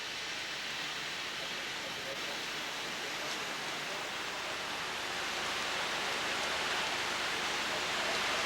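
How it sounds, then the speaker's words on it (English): Steady rain falls at a rail yard near a 600mm gauge palm plantation steam railway in Sumatra, a dense, even hiss of drops filling the whole stretch without a break. "As the rain descended, a trip to the depot revealed evidence of the demise of steam here."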